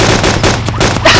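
Loud, rapid bursts of close gunfire ring out in the survival video game DayZ, shot after shot packed together in a short volley with no voices over it.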